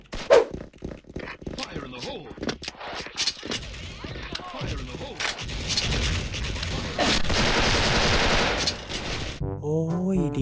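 M4A1 rifle fire in a shooting video game, dense rapid bursts of shots crackling loudly, sometimes overlapping with someone talking excitedly.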